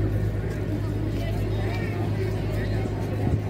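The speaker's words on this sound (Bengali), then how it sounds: "এখানে এখন লঞ্চ যাচ্ছে গঙ্গা দিয়ে" A launch boat moves along the Ganges near Belur Math during Durga Puja, a steady low engine drone under the chatter of a festival crowd on the riverbank.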